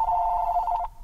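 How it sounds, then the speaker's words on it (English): A telephone rings once with a steady electronic tone that cuts off just before the end, close by and alone over a low background hum. "Let me answer the phone here real quick."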